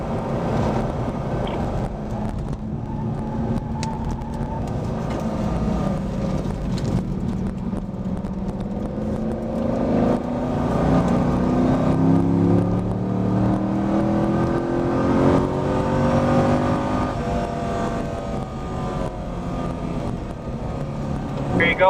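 Camaro or Corvette accelerating down the back straight at Spring Mountain Motorsport Ranch, engine note climbing steadily through the gears from inside the car, with a voice talking over the drone.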